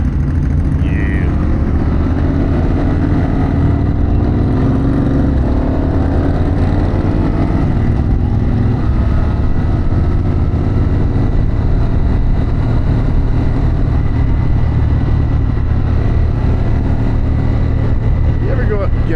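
A Harley-Davidson Pan America motorcycle fitted with a Vance Akrapovic exhaust rumbles loudly and continuously while riding, its engine drone steady throughout with a rising note early on and a rider talking over it.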